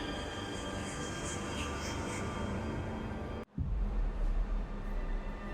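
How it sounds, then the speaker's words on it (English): Subway train arriving at an underground station, a steady rumbling rush of wheels and motor that cuts out suddenly, then returns as a lower, heavier roar with a descending whine as the train slows. "The train arrived."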